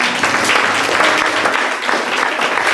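A church congregation claps together in loud, sustained applause that fills the room evenly for the whole stretch, with no clear voices rising above it.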